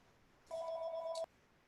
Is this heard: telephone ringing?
yes